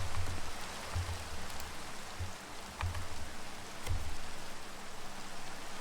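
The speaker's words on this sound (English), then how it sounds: "It's already raining." Steady hiss of rain falling in Minecraft, the video game, a continuous even wash of droplets with soft low thumps pulsing through it.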